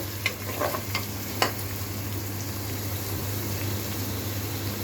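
Onion frying in a pan for khuder bhaat, a broken-rice dish, with a steady low sizzle, a hum underneath and a few brief stirring clinks near the start.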